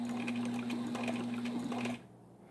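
A vintage Singer 15 sewing machine fitted with a step-down pulley speed reducer stitches bonded nylon thread at its longest stitch length, a close rapid mechanical whirr with regular ticking that stops abruptly near the end.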